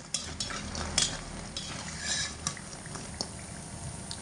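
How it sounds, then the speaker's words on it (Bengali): Bori lentil dumplings frying in hot oil in a pan, a continuous crackling sizzle with occasional sharper pops and stirring clicks, close and moderately loud. "বড়িগুলোকেও একই তেলে দিয়ে ভেজে নেব বড়িও লাল লাল করে ভেজে নিতে হবে"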